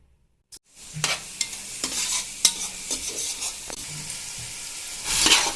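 Chopped onion and chilli fry in a pot for chicken biryani, giving a steady close sizzle broken by scraping stirs and light clinks, with a louder hiss swelling at the end.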